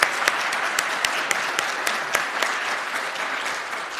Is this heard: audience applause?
yes